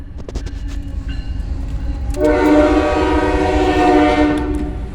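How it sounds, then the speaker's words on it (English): A train passes close by, its rumbling wagons building up loudly partway through while a sustained horn blast sounds over the clatter, with no one speaking. "Here comes a train."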